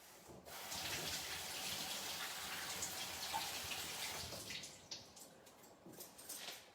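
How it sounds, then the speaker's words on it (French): Carrots rinsed under a running kitchen tap: a steady, close splashing stream of water that holds for several seconds, then eases into lighter, uneven splatter and drips. "je vais rincer mes carottes"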